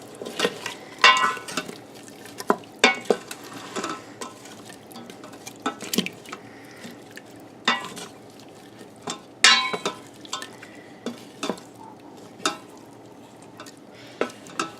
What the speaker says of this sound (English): And now I'm just going to be mixing it.